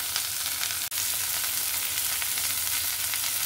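Pumpkin leaf fritters with dried fish frying in a little oil, a steady close hiss and crackle of sizzling that fills the whole stretch without any talking.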